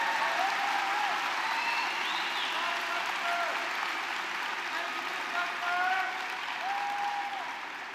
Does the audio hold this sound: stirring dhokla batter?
no